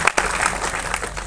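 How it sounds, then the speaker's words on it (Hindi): Audience at a live motivational stage show clapping for two volunteers, a short burst of scattered, fairly close hand claps at moderate volume. "विवेक और आसिम के लिए जोरदार तालियां बजा दीजिए एक बार"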